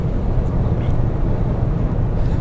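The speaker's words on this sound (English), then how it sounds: "I kick down and enjoy the sound of the engine. It's a 2-liter engine" A Mazda3 SKYACTIV-G 2.0-liter 165 hp engine accelerating under kickdown drones steadily at a loud, low pitch throughout, with a broad rumble and no clear rise or break.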